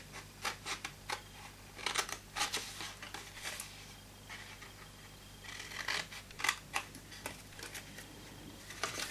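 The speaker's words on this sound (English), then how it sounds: "with the next one we're going to cut those off all together" Scissors cutting card along score lines for a small Christmas tree box, a series of short crisp snips and paper scrapes in uneven bursts, close and fairly quiet with no talking.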